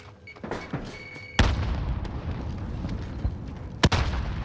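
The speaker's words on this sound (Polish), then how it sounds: "Leci granat." A grenade explodes in a Call of Duty Warzone arena match, a loud broadband blast that jumps up mid-clip and leaves a sustained rumbling roar, with a second sharp boom near the end over ongoing gunfire-like noise.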